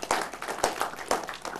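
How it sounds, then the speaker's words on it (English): Applause from an audience at a tech festival talk, a steady patter of many hands clapping at close range for a short stretch with no one talking over it. "So a round of applause for him"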